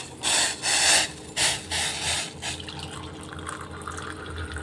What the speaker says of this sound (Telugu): ఇంకా వాటర్ అయితే పోసేసుకుంటాను.